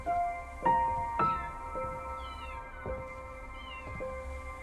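Several cats meowing in the video game Copycat, a string of short, close, clear meows over faint background music, with no speech.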